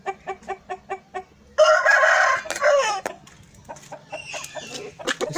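An Aseel rooster gives a quick run of rhythmic clucks, then a long, loud crow close by, followed by scattered softer clucking.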